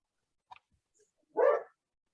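A dog gives a single short bark indoors, faint and brief after a soft yip, with quiet between.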